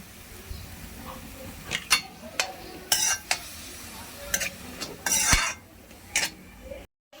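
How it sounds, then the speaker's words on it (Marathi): Broccoli stir-fried in a pan, a soft sizzle beneath repeated sharp scrapes and clinks of a spatula against the pan in an irregular rhythm, close by, with no voices. "परतून घेऊया।"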